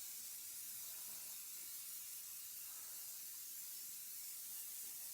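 Hairspray hisses in a continuous, fairly faint spray across an acrylic painting, a steady airy rush with no pauses and no talking.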